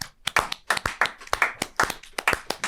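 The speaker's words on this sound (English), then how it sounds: "let's have a round of applause for the hero" A small group in a podcast studio claps in a short round of applause for a guest, with quick, uneven hand claps close to the microphone and no talking over them.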